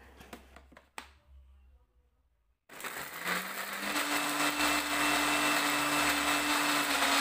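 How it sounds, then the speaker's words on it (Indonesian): A kitchen blender starts up and runs steadily, grinding spice paste for cooking with a loud, even whir after a few soft handling clicks and a moment of near silence. "Selanjutnya bumbunya di blender hingga halus."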